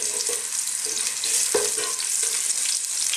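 Garlic and ginger sauté in a pan with a constant bright sizzle, broken by regular scraping stir strokes about twice a second, close and fairly loud with no voices.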